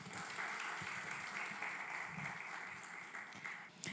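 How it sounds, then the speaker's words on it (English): Audience applause at a fraud and ID solution product launch event at a hotel in Kampala, a steady wash of many hands clapping from a distance that holds quite evenly for about four seconds. "Let's give him another hand clap."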